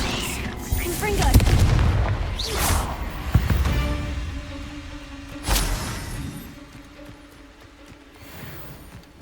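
Confringo blasting spells burst in Hogwarts Legacy: a few whooshing blasts with heavy booms early on, then a fainter crack later as the rumble settles into quiet ambience.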